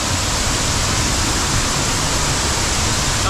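An outback waterfall roars close by, a loud, unbroken broadband rush of falling white water with no pauses and no voices.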